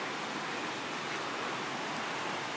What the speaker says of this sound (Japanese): 今日カンバの滝に来ました。